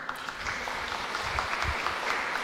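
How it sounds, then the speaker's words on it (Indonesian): Applause for the priest at a Catholic wedding ceremony, a soft, steady patter of clapping from a congregation, heard at a distance and fairly quiet throughout. "Tepuk tangan dulu buat Romo ya."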